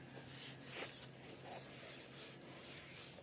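Rasping, scratchy strokes of sandpaper on the wooden base of a cat tree, faint and irregular, with a few brighter bursts.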